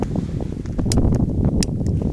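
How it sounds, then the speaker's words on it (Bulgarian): Steady wind buffeting an outdoor scene at an aerial funeral ceremony, a loud continuous rumbling rush with scattered brief rustles and knocks on top. "Има вятър."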